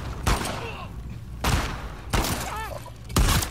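Shotgun blasts in The Last of Us Part II, four loud broadband bursts spaced about a second apart, with brief voice-like tones between shots.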